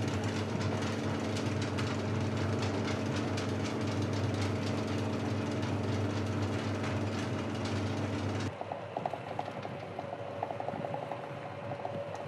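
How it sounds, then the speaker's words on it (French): A chocolate-workshop tapping machine vibrates champagne-cork moulds to burst air bubbles, giving a loud, steady mechanical rattle and hum that suddenly cuts out, leaving quieter faint clicking. "Ensuite, on pose sur la tapoteuse pour pouvoir crever les bulles"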